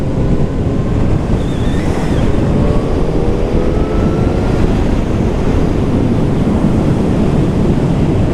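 Rushing wind buffets the microphone while riding a Yamaha FZ1N naked motorcycle, a loud, constant roar over which a faint engine tone rises and falls, with no speech.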